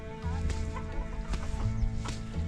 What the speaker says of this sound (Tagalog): Chickens are awake, wandering around.